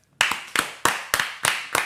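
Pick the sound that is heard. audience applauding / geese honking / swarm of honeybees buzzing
audience applauding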